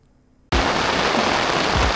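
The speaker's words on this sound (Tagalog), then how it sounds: "papalag nga bang Montana sa ulan?" Rain suddenly bursts into a dense, loud hiss on a Montana Villa 13 tent, the steady drumming starting abruptly after a quiet moment and holding close and even.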